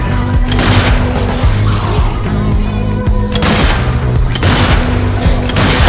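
Rifle fire in the zombie shooter Zombie Army 4, heavy booming shots over a constant droning game background and music, several loud blasts spaced a second or two apart.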